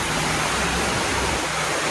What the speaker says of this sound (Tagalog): Ang lakas ng ulan guys, oh.